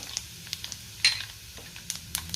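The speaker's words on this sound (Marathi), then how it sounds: "तेल गरम झाले, मोहरी घालूयात, जिरे घालूयात, त्यातच आपण जे पावडर मसाले घेतलेले आहेत ते घालूयात" Mustard seeds, cumin, turmeric and onion-garlic spice powder crackle in hot oil for a rustic brinjal curry. The sizzle is quiet and steady, with a few sharp pops and light clinks throughout.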